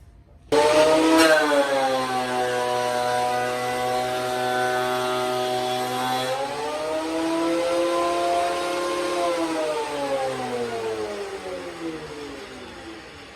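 A Bauer 12 1/2 inch benchtop thickness planer spins up with a rising whine, runs at a steady high-pitched whir, then its pitch dips and slowly recovers; no voices.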